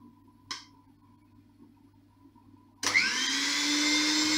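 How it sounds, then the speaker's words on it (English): An electric hand whisk starts up abruptly and runs loud and steady, beating four eggs with caster sugar for a chocolate Swiss roll, after a brief clatter in a quiet kitchen. "we are going to whisk this"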